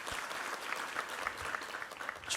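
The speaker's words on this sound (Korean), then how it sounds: "우리 하나님께 감사와 영광의 박수 올려드리겠습니다." A church congregation at a Korean Sunday worship service claps together in a steady, even wash of applause, fairly soft and without speech.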